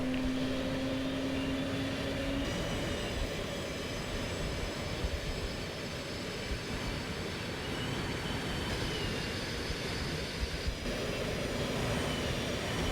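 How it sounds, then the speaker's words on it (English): An F/A-18 Hornet jet engine spools up during an engine 1 start in the X-Plane 11 flight simulator, a steady broadband roar with a rising whine that holds loud and even throughout, no talking. "Engine 1's coming up."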